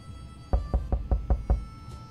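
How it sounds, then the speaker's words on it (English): Six evenly spaced knocks on a door in 60 Seconds Reatomized, firm and close, in a steady rhythm after a brief quiet start. "Knock on the door."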